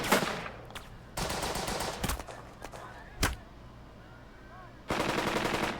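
Bursts of rapid gunfire from troops in the strategy game Burden of Command, set in North Africa, come as several volleys with short gaps, sharp cracks among them and a steady low rumble underneath.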